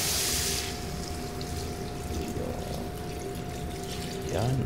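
Water pours steadily into a container, a soft continuous trickle and splash close by, ending with a louder gush of liquid.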